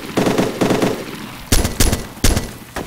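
Gunfire in Arma 2: several loud, close rapid bursts of automatic weapon fire, with short pauses between the volleys.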